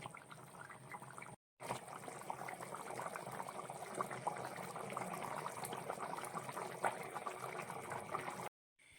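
A tomato fish curry simmers in a covered pot, giving a soft, continuous bubbling and hiss that runs steadily throughout at low volume, briefly cut to silence twice.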